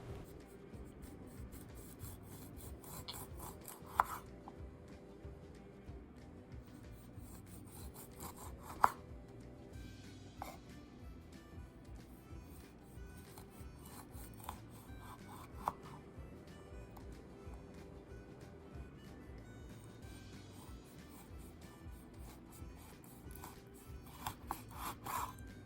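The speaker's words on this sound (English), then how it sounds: "The first thing we need to do is slice our lime." A lime being sliced with a knife for Asian salsa makes quiet, repeated rubbing cuts with occasional sharp taps on the board, close and soft, with no voice.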